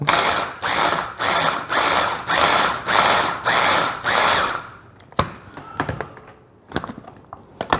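Salsa fresca ingredients being chopped in a food processor: seven loud, rhythmic motor pulses of about half a second each, then a stop followed by scattered clicks and knocks of the bowl and lid.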